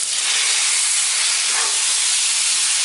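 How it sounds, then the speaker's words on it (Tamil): Chicken gravy fries in a hot pan for a Salem-style hotel chicken fry, giving a steady, loud, unbroken hiss of sizzling oil that runs through the whole stretch with no talking. "சும்மா ஒரு குழிக்கரண்டி அளவுக்கு குழம்பு ஊற்றிட்டு ஒரு நிமிஷம் ஃப்ரை பண்ணால் போதும்."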